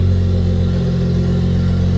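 An old car engine, just brought back to life, runs loud and close with a steady, rough mid-pitched idle and no break.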